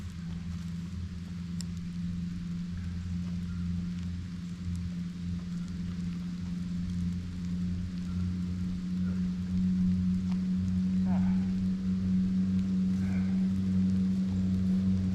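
Rain falling on a parked pickup truck at a camping spot, a soft steady patter over a low constant hum, faint and even throughout with no talking.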